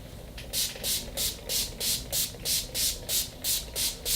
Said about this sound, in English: I'm just going to spray my entire face